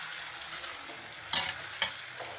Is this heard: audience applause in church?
no